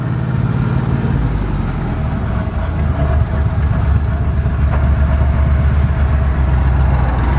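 1975 Jeep with an EFI Dauntless V6 engine running as it drives across the street, a steady low rumbling drone with a faint rise in pitch under throttle, close and heard from inside, with no talk.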